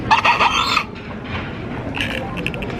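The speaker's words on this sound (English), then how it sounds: "That was my straw." A plastic straw squeaks as it slides through the lid of a Coke Zero cup: two shrill, wavering bursts near and clear, with quieter rubbing between them.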